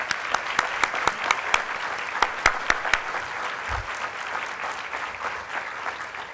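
A faculty meeting audience applauds in a sustained, dense patter of many hands, with sharper individual claps standing out near the start before the clapping settles into an even wash.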